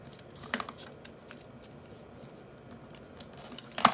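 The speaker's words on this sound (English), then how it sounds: "Then we're going to fold this to the center." Paper being folded toward the center while making an origami griffin: a few soft, dry creasing rustles, with a sharper crisp snap near the start and another at the end, close and fairly quiet.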